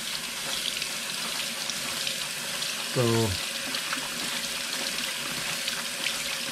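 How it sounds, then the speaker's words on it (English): Tap water runs steadily into a strainer as bitter melon is rinsed in cold water, a constant close splashing hiss with a brief tonal squeak partway through. "Put the salt and then squeeze out all that water, and then wash it with cold water again."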